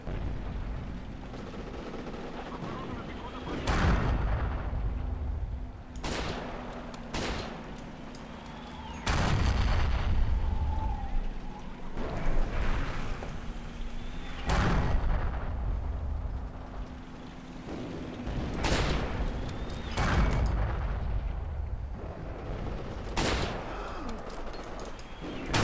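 Mortar blasts and rifle fire in the World War II shooter Forgotten Hope 2 on the Flavion map: a series of sharp, heavy explosions and shots at irregular intervals, some booming and close, over a steady low engine-like hum.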